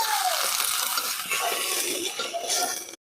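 Liquid is poured into a cooking vessel while spicy river chanda fish curry is being prepared, a continuous splashing trickle with faint clinks, ending abruptly after about three seconds.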